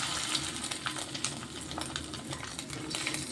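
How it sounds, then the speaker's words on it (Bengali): Fish roe fritters fry in hot oil in a wok, giving a continuous moderate sizzle with faint crackles throughout. "বড়া ভেজে নেব।"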